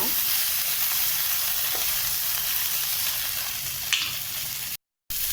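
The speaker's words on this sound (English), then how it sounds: "now we are going to put the broccoli into this. So we'll sprinkle some salt onto this and just mildly saute" Broccoli sautés with a sprinkle of salt in an oiled pan, giving a steady, close, loud sizzle that holds throughout and cuts off abruptly near the end.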